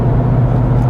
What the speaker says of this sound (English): So just cruising along now at 110's doing 1870 RPM in top gear, and it's just effortless.